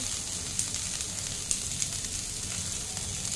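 Onion, green chilli and beans sizzle in hot oil in a home kitchen pan, a steady bright hiss with small crackling pops scattered throughout.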